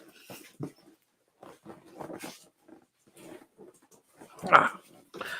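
A puppy lets out a short, close whimpering whine after several brief soft dog sounds, with long quiet gaps between them.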